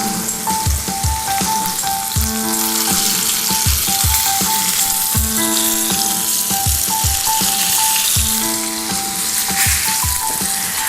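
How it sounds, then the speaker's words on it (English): Chicken breasts browning in a hot pan for an artichoke chicken braise give off a steady, loud, close sizzle and crackle that runs unbroken from start to finish, with no voices over it. "just enough to get a nice sizzle going on, and just let these guys brown"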